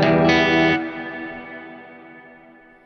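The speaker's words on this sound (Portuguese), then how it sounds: "Mais uma vez aqui com o IR, né? Vou colocar um reverb agora aqui." Electric guitar played through a Line 6 HX Stomp using an impulse response and reverb: a single strummed chord rings out, briefly re-struck, then decays slowly with a long reverberant tail, alone and fairly loud.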